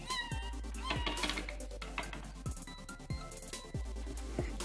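A cat meows repeatedly in close, fairly loud calls over a steady low hum, with a few higher caterwaul-like cries, next to a child opening Littlest Pet Shop toys.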